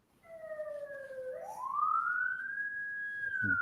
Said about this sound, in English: Some sirens, some flashing lights.